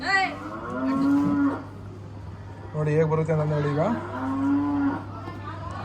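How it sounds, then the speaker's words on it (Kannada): A cow moos loudly twice, long drawn-out calls, while a person talks over and between them; a steady low hum runs underneath. "ಹಸು ಕೂಗ್ತಾ ಇದೆ."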